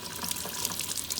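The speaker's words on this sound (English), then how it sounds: "I'm just going to lay this down here and let the water continue on it." Water runs continuously over a cyanotype print laid down for rinsing, a steady hissing trickle and splash from a tap, close and moderately quiet, with no voices.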